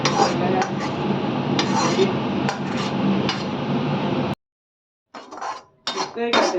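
A metal spoon scrapes and clanks in a pan as walnuts are stirred in ghee for gond laddu, a loud close continuous rattle that pauses briefly, then returns in short bursts.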